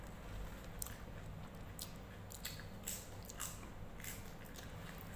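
Someone chewing crunchy cucumber, a series of sharp, close crunching bites spaced irregularly over a quiet background.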